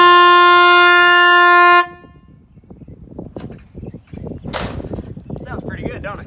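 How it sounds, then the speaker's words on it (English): A loud, steady car horn blares for nearly two seconds, then cuts off abruptly, followed by quieter rumbling, clattering and brief sharp noises. "That's the first time I heard the horn too."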